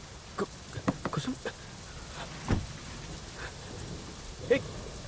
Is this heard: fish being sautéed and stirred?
no